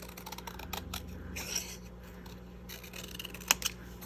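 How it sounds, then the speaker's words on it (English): Scissors cutting out a stamped paper label, heard as close, soft snips and paper rustling in uneven bursts, with a sharper snip near the end and no talking. "I just want to cut that out"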